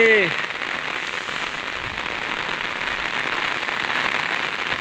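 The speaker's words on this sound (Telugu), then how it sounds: "భారీ వర్షాలు పడుతున్నాయి" Heavy rain pours down in Kadthal, a dense, even hiss of drops on surfaces that runs steadily throughout, with a short voice at the very start.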